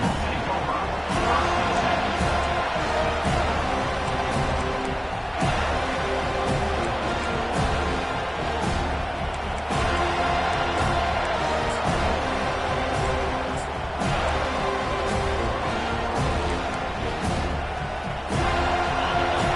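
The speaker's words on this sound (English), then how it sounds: "This crowd bringing an ear-splitting welcome to their visitors." A packed stadium crowd at an American football game roars with a dense, sustained wall of cheering and shouting voices, loud and continuous with brief swells throughout.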